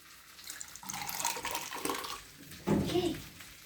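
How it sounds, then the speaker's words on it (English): Small splash of water poured into a pot of pilau rice cooking on the stove, brief liquid gurgle and sizzle rising near the end, close and fairly quiet. "when it starts sticking, you have to put in some little water"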